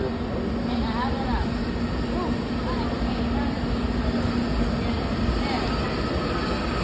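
A MARC Camden line 7000 series passenger train rumbles steadily nearby, dense low rolling noise with a faint tonal whine and occasional squeals, continuous and loud for the whole stretch.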